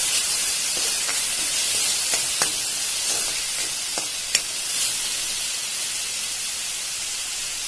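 Kashmiri red chili powder hisses and sizzles in hot oil over a medium flame while Schezwan chutney cooks, a loud, continuous fry with occasional pops and spatters.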